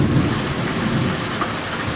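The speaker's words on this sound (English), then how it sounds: "oh my god, it's totally raining, it's this perfect sleep weather" Heavy summer rain pours in a dense constant roar while low rumbling thunder rolls underneath, loud and close throughout with no one speaking.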